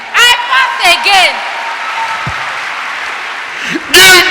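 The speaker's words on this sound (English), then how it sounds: "Give Jesus a wonderful clap." Church congregation clapping during a live-streamed Omega Power Ministries service, a steady wash of applause filling the whole span with a few loud cheers or shouts near the start and again at the end.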